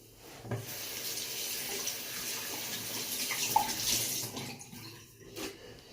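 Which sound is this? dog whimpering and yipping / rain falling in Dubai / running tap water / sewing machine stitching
running tap water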